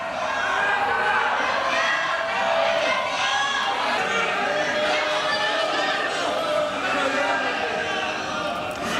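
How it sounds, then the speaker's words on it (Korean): A crowd shouts and boos during a president's policy address at a podium, a dense, loud wash of overlapping voices and jeers that goes on without pause. "연단에 대통령이 올라가서도 고성과 야유가 계속해서 이어지고 있습니다"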